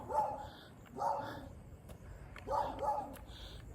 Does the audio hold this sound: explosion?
no